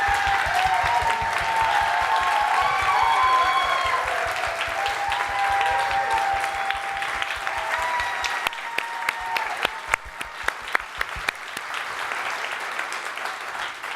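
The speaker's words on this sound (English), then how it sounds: "So, can I have an applause for Alberto?" Church congregation clapping after a song at a Father's Day service, a full burst of applause that gradually thins into scattered individual claps before fading out.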